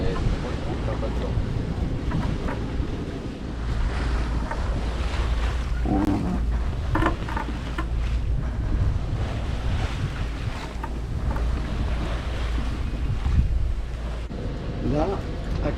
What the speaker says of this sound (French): Là, actuellement, on est au moteur.